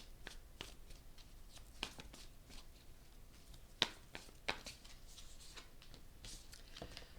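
Tarot cards riffled and drawn from a deck, soft papery shuffling with a few sharp snaps and flicks, close and quiet with no talking.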